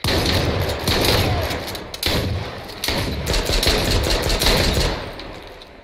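Bursts of gunfire in a multiplayer shooter game, several heavy volleys of rapid shots separated by short gaps, loud and close, with faint talk in the background.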